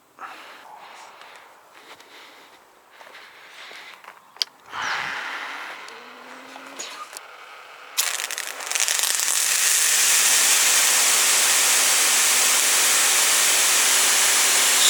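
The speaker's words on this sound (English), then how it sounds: "we can test the Ryobi in the normal mode and in the turbo mode with the default 40-degree nozzle here" A Ryobi cordless pressure washer with a 40-degree nozzle stays mostly quiet apart from faint handling noises, then starts with a sharp burst into a loud, steady spraying hiss under a low pump whine that continues to the end.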